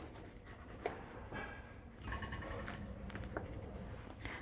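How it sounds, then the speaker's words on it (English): A knife cutting an avocado in half all the way through, heard as soft, close scraping and rubbing strokes with a few faint taps, quiet and without talking. "we're gonna get pieces of avocado. So we're gonna cut it in half all the way through."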